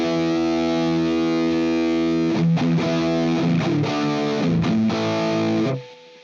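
Guitar on the bridge pickup through a budget NUX pedal with gain cranked, a dark, noisy distorted chord ringing then a string of choppy strums, hiss constant underneath until it cuts out.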